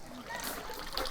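Water splashing and trickling at a Japanese shrine purification basin, soft sloshing and dripping with small bright splashes, faint, with a voice talking lightly underneath.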